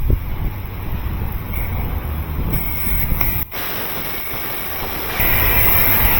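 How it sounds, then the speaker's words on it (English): High-pressure soap sprays from a PDQ LaserWash automatic car wash in a loud, continuous rushing hiss that briefly dips in the middle and then returns slightly stronger. "start with high pressure soap"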